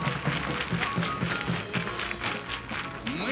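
Studio audience at a Russian Lotto television draw applauding, a dense, even patter of many hands clapping close by for a few seconds.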